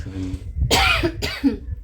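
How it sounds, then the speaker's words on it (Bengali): Two sharp coughs from a person close by, a short burst followed by a second one after a brief pause. "তাই কাশি"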